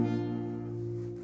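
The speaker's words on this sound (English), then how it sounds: "So your first chord is going to be a bar chord." Steady, sustained bar chord on a guitar ringing alone for about a second, its tones holding evenly and fading slightly without any new strums.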